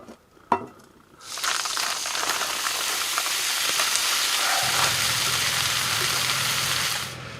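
Eggs and hash browns fry for breakfast inside a heated winter camping tent: after a brief knock, a loud steady sizzle rises and holds, then fades near the end.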